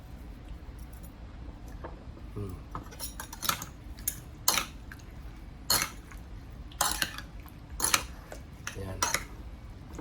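Squid kinilaw being mixed with salt in a bowl, Siargao and Surigao style, with soft clinks and scrapes of utensil against the bowl repeating irregularly over a steady background hum, no talk.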